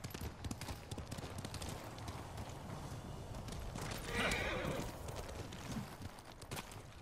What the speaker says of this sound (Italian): il nostro Jin Sakai ha un nuovo cavallo